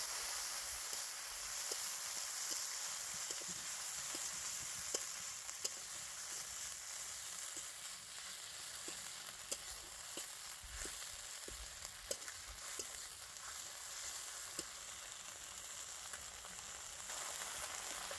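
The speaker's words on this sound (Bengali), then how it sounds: "মশলাটা কষানোর জন্য হালকা একটু জল দিয়ে দিলাম।" Onion, ginger and cumin paste for baingan roast fries in a pan with a steady, soft sizzle and faint crackles throughout.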